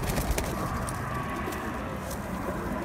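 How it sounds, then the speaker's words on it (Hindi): Banke pigeons on a rooftop in Rawat give soft, low cooing amid steady outdoor background noise, faint and continuous rather than in distinct calls. "बांके कबूतर हैं जनाब"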